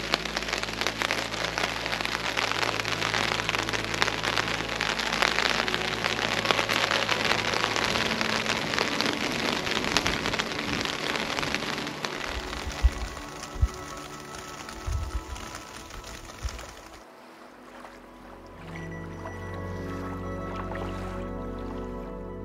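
Rain from a short shower patters steadily on a camping tarp beside a lake during a canoe trip, a dense close drumming with occasional louder drips that changes texture partway through; no talking.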